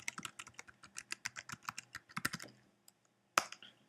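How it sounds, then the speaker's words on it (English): A username and password are typed on a computer keyboard in a quick, close run of crisp keystrokes that slows after about two and a half seconds. After a brief pause comes one sharp final key press, with no voices. "now I'm just going to type in my username"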